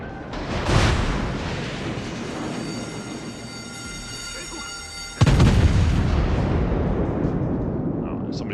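Naval guns fire salvos in World of Warships: two heavy booming blasts, each followed by a long, loud rumbling roar that fades slowly over a constant engine-like drone.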